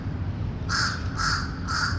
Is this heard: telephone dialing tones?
no